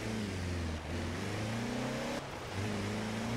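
Stock Mercedes X-Class pickup in Forza Horizon 4, its engine droning steadily at a low, even hum with a slight pitch rise, close and continuous with two brief dips as the revs drop.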